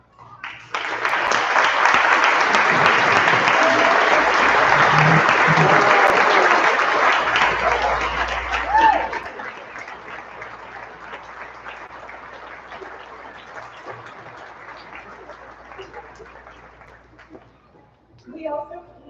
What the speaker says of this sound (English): And you guys deserve a huge round of applause.